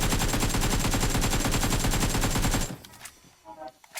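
Rapid automatic gunfire rattles loudly and steadily for about two and a half seconds in PUBG Mobile, then cuts off, leaving a few faint distant pops and game sounds.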